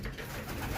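A racing pigeon gives a short, soft coo in a loft, brief and low, set against faint background noise.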